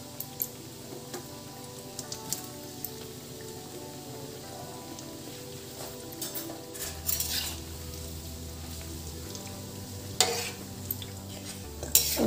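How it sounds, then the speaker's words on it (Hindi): Mathri, a flaky flour snack, frying in oil in a kadhai over medium gas while being stirred: a continuous soft sizzle with light scraping and clinks, growing a bit louder partway through, with no talk. "हमारी कढ़ाई तैयार है, अब मैं इसमें मटरी डालती हूँ।"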